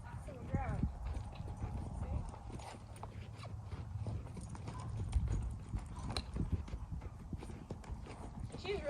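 Horse hooves clip-clop steadily on the ground as a Western horse is worked through rollbacks on the lunge, with a low rumble and occasional whinny-like sounds; a voice talks throughout.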